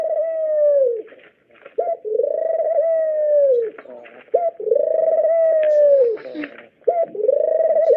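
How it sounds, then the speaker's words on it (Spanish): Pigeon cooing in repeated drawn-out phrases with short pauses between them, loud and close, heard alone in an animal sound guessing game. "Una paloma."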